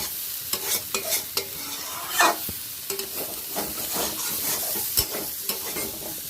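Cauliflower, potato and bori (lentil dumplings) being sautéed in a pan for a vegetarian curry: a spatula stirs and scrapes in irregular repeated strokes over a steady sizzle, close and moderately loud, with no talking.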